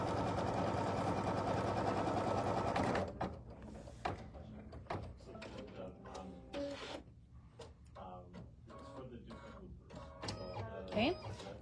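A sewing machine stitches fabric for a star-spangled quilt block, running steadily for about three seconds before stopping, followed by quieter handling clatter and intermittent clicks with a voice speaking nearby.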